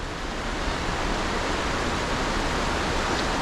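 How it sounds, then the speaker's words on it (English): Cucumber Run, a feeder stream flowing into the Youghiogheny River at Ohiopyle, rushes with a steady, broad, close hiss of churning water, continuous and without talk. "this is one of the feeder streams that feeds into the Youghiogheny River right down here"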